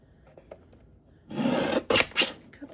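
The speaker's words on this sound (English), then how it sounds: "cut the edge off a little bit of both sides evenly" Scissors or a trimmer slicing along the edge of a paper tag in a crafting setting, a short rasping cut followed by two quick snips, close and fairly loud after a quiet start.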